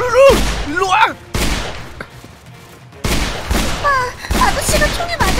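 Gunfire in a Minecraft zombie-apocalypse roleplay game, loud bursts of shots mixed with excited voices and pitched cries, a quieter gap in the middle before the dense firing and shouting return.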